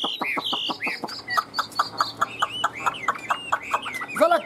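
A caged Chinese hwamei songbird sings loud, close phrases of rapid whistles and chattering notes in a continuous, busy stream with no talking.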